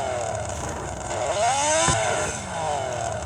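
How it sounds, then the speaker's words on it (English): A Mazda RX-7 engine in an Android car sound game revs loudly, climbing to a screaming peak, dropping away, then rising again in a smooth sweeping tone. "Okay, let's do some revs."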